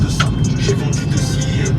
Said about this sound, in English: we are driving now